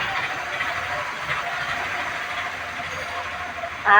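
Passing vehicle traffic rumbles steadily nearby in a continuous, moderately loud drone that swells briefly at the very end.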